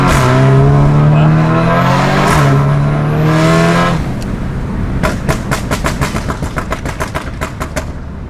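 A tuned Audi S3 with a forged engine and titanium exhaust accelerates hard, its loud engine note climbing through several gear changes, then a rapid series of sharp exhaust crackles and pops as it lifts off.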